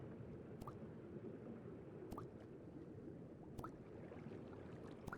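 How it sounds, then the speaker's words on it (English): Underwater ambience from the Minecraft survival game: a faint, muffled watery bed with soft gurgles and short bubbly drips recurring about every 1.5 seconds, with no voices. "The sound of being underwater feels quite different."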